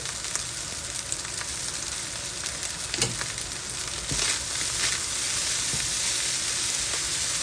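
Shrimp fried rice with sweet corn sizzles steadily in a hot pan, a dense continuous frying hiss with occasional scraping stirs, close and fairly loud, no talking.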